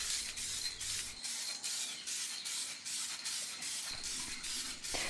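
Rover White Diamond paint hisses from aerosol spray cans onto a car body, a steady close spray broken into repeated short bursts with brief pauses between passes.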